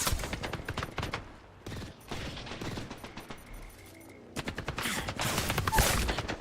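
Rapid bursts of automatic gunfire from an Apex Legends match, loud and dense volleys with short gaps between them, filling the scene with no talk over it.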